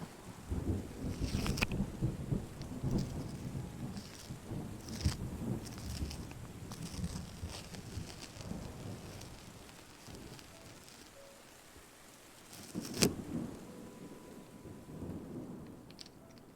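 Heavy rain hisses steadily while deep thunder rolls in, with a sharp loud crack near the end; no one speaks. Game audio from Terra Nil.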